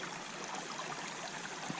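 A brook runs through pine woods, a faint, steady, rushing trickle of water with no voices.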